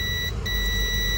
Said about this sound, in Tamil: நான் பசர் மோட்ல போட்டு அந்த ஷார்ட் வர சவுண்ட் வந்து நான் உங்களுக்கு காட்டுறேன்